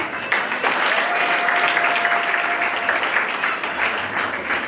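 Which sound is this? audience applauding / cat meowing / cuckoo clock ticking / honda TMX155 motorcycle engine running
audience applauding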